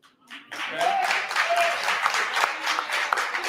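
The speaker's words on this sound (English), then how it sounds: "It really should have been a better clap" Scattered, modest applause rises after a short pause at a town board meeting, a thin round of clapping from a small audience, with voices heard over it.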